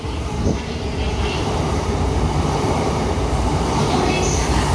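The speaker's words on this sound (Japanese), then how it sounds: "4番線に快速成田空港柏神宮行きが参ります。" A rapid train pulls into platform 4 at Funabashi station in Japan, bound for Narita Airport and Kashima Jingu. It gives a loud, steady rumble of rolling wheels on rail that runs without a break.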